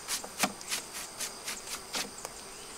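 Honey bees buzz around hive frames in a small nuc hive with repeated short, close passes, each buzz rising and fading in a quick irregular rhythm against a quiet background.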